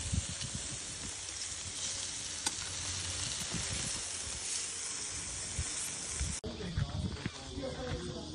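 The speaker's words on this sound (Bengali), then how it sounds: "বাড়ি থেকে চিকেনগুলোকে ম্যারিনেট করে আনা হয়েছিল। অবিক এখন এগুলো চালিয়ে দিয়েছে গ্রিলারে।" Marinated chicken sizzles on a barbecue grill outdoors in a park, a loud continuous hiss that holds steady before an abrupt drop in level, with faint background sounds underneath.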